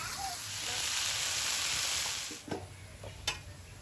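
Green chillies, slit open, fry in a pan with a steady broad sizzle that eases after a couple of seconds, followed by a few sharp stirring scrapes and clatters.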